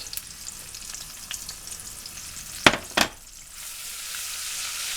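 Onions fry in a garlic butter and olive oil mix with a steady, hissing sizzle throughout, broken by two sharp clacks of a utensil near the middle, after which the sizzle swells louder; nobody speaks.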